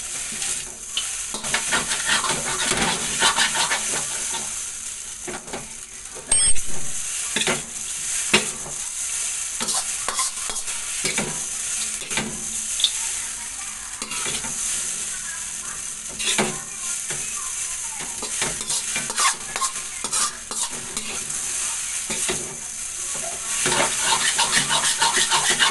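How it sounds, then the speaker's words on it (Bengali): Chow mein is stir-fried in oil in a pan in a Bengali home kitchen, giving a steady, close sizzle with repeated scraping and stirring strokes that last the whole stretch, and no one speaks. "একটু ভাজা হয়ে গেলে আমরা নামিয়ে দেবো।"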